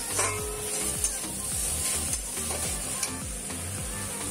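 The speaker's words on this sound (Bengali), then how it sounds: "তো এটা ভাজা ভাজা হতে থাক।" Food fries in a pan with a steady sizzle while a utensil scrapes and stirs in repeated strokes about twice a second, a kitchen chimney fan humming along and no voices.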